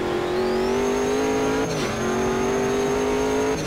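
In a sim racing game, a race car's engine drones at high revs, then drops abruptly under hard braking before climbing again, a loud, continuous in-car engine tone.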